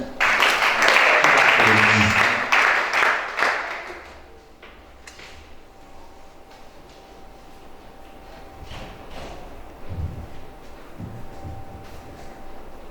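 Church congregation applauding at a prophet's worship service in Gabon: loud, dense clapping for about four seconds, then fading to a quiet room murmur with a faint steady tone.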